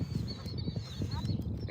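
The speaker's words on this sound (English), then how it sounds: "just listen to those birds right now" Geese and other birds calling outdoors on a sunny day on the water, with honking and chirping calls scattered steadily throughout over a low background rumble.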